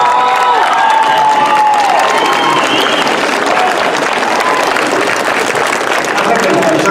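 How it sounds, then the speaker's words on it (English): A graduation audience of family and friends applauds and cheers loudly and continuously, dense clapping filling the hall with a few shouts rising above it. "So I want you to do this with enthusiasm and not just a mediocre applause, okay?"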